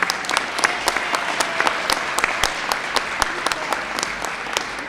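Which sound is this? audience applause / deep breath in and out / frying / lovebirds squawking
audience applause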